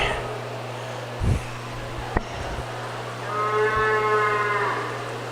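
A Mini Zebu bovine gives one drawn-out moo at a cattle show at the Colorado State Fair, heard over a low steady indoor hum, with a few dull thumps earlier in the clip.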